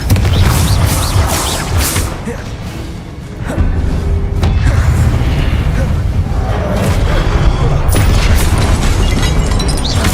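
Repeated Expelliarmus and Confringo spell blasts from Hogwarts Legacy combat crash and boom loudly. The heavy thuds and sharp impacts layer over a continuous rumbling, clattering battle din, with several distinct hits punching through.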